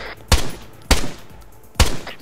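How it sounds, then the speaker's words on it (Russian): Three loud, sharp gunshots in ArmA 3 ring out at a steady pace, each followed by a short echoing decay. "Ой, я слышал выстрел."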